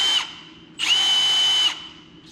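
A 3/8 cordless drill turns the oil pump primer of a 1960s Buick Nailhead engine, whirring in two bursts, a short one then a longer steady run at a high constant pitch, close by with no talking.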